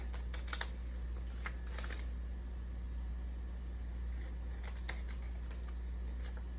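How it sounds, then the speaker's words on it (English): Scissors snip through paper tab lines for party favors, a few quick clusters of crisp cuts over a low steady hum, close and with no voice. "we're gonna cut these white tab lines on the side of this"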